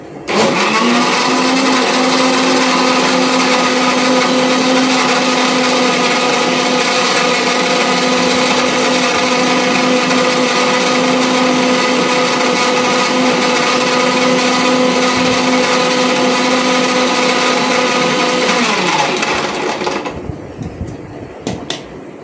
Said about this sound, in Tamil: அதனால தான் முதல்ல பேசிட்டு மிக்ஸியை போடுறோம்.